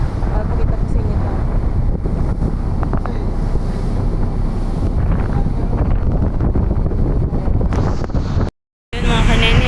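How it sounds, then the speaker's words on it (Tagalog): Strong wind buffets the microphone on the open deck of a RORO ferry at sea on the Laguna–Batangas trip, a loud, steady roar with water and engine rumble beneath, continuous for most of the clip. "lakas na hangin"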